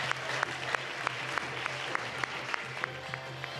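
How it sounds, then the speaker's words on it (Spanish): An audience applauds Kepa, a triquitixa player, at a World Down Syndrome Day event, sustained even clapping at moderate level with a few sharper claps standing out from the rest. "Venga, un aplauso para Kepa."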